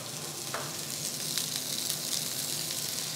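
Butter sizzles in a hot pan alongside trout fillets being cooked with almonds, a steady close frying hiss with a few faint pops and no voices.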